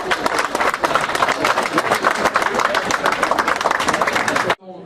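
A crowd at an outdoor podium ceremony at Grand Colombier applauds sponsors with loud, dense, sustained clapping that stops abruptly at the end.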